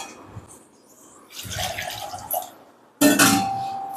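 Water poured into a pan of sautéed ingredients for sambar in two short bursts, splashing and sizzling briefly against the hot surface, close by.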